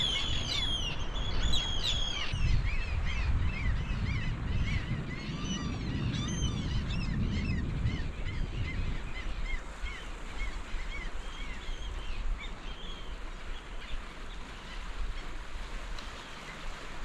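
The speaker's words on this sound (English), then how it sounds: "Now the birds will get angry." Geese or similar seabirds honk repeatedly near a lighthouse island in open water, a flock calling in overlapping bursts at moderate distance over steady wind and lapping waves, loudest at the start and then continuing more faintly.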